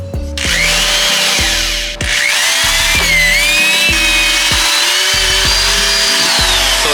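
A power drill whines loudly and steadily, its motor pitch shifting as it bites into material while fitting side skirts to a Toyota GR86, with brief pauses and restarts.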